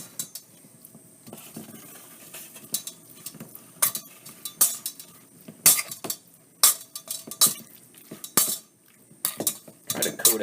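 Chicken stir-fry with soy sauce is tossed in a pan, a utensil clinking and scraping against the metal in an irregular string of sharp, close taps and knocks.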